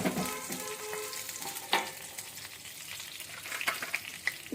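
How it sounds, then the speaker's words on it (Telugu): Mustard and other tempering seeds spluttering in hot oil in a pan before onions go in, with scattered sharp pops and crackles over a soft frying hiss, fairly faint and close. "పోపు మంచిగా ఇలాగా చిట్పట అంటుంది కదా."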